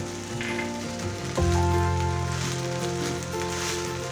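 Thinly sliced green chilies are stirred into chicken vegetable fried rice in a hot pan, giving a steady, close sizzle that swells when they go in and then holds at a constant level.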